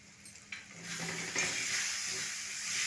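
Ground fennel and chili powder being fried in a pan for a chickpea curry, a soft close sizzle and hiss that rises sharply partway through and carries on steadily with faint stirring scrapes.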